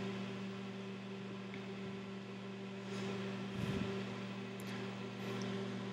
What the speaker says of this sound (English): I love putting marshmallows in the microwave.